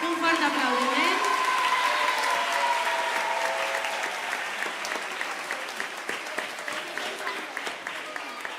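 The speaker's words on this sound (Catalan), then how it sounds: "Així que us demane un fort aplaudiment." A concert audience at a tango performance bursts into loud, sustained applause that gradually thins toward the end, with a voice heard briefly at the start.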